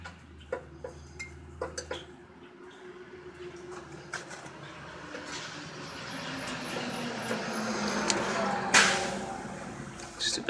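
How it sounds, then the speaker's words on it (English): A loud truck passes outside a workshop, its low rumble swelling steadily into a broad roar over several seconds while clattering metallic ticks and taps from nearby work break through. "Stupid loud truck."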